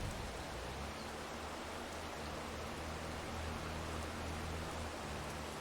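Rain falls in a farming video game as a steady, even hiss that holds at the same moderate level throughout, with no voices over it.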